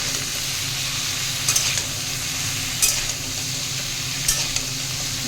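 Vegetables for shukto fry in a pan alongside bori lentil dumplings, with a constant close sizzle and three distinct scraping stirs of the spatula spaced a second or so apart.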